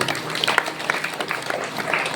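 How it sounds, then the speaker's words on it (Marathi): A kirtan audience at a Harinam Saptah in Sulewadi breaks into brisk, dense applause, with a few voices rising within the clapping. "टाळ्या वाजवा. मस्त उत्तर दिलं तेव्हा."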